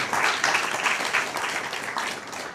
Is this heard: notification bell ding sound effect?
no